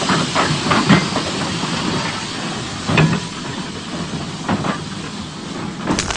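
Broadband hiss of an industrial steam locomotive working a colliery line, with scattered sharp bursts and clanks over a steady rushing background, moderately loud and continuous throughout, no talk.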